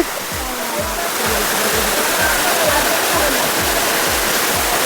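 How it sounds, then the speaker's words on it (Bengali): The Dharagiri waterfall near Ghatshila pours over rocks in a loud, close, unbroken roar of rushing water, while a voice speaks over it. "ওই যে দেখো ধারায় জল পড়ছে একদম কত সুন্দর লাগছে দেখতে"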